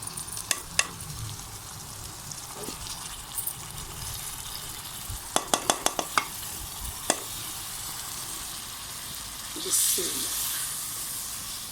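Sabudana (sago) sizzles in a hot pan as it is stirred, with a steady frying hiss and several sharp scraping clicks of the spoon against the pan, plus a brief louder burst near the end.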